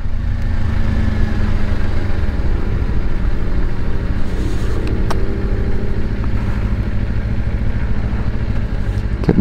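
A 2024 Kawasaki Ninja 500 KRT motorcycle shifts down to first gear, its engine rumbling steadily up close with a brief gear-change shift in tone midway, no speech.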